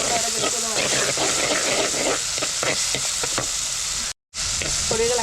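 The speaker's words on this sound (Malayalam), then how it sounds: "ഇതിൻ്റെ പച്ചമുളക് മാത്രം വരെ പിടിച്ചൊന്ന് വഴറ്റിയെടുക്കാം." Green chillies with coriander, chilli and turmeric powders sautéing in oil for a Kerala fish curry, a steady dense sizzle with stirring scrapes throughout, briefly cutting out near the end.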